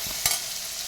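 Onion frying in a pan until brown, a short, close hiss of sizzling with one brief scrape or stir in the middle.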